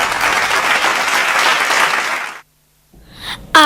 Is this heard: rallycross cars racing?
no